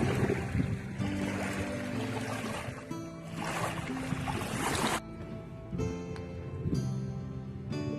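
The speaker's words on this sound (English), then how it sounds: "The wave of the water sounds like relaxing." Water laps and sloshes at a park lakeside, a continuous close splashing wash with irregular swells, fairly loud, ending in choppier bursts.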